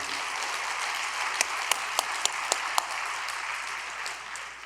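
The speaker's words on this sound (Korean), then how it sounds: "여러분 축하의 박수를 한번 올려드리겠습니다" A congregation gives congratulatory applause at a special all-night devotional service: steady, sustained clapping throughout, with a few sharper individual claps standing out near the middle.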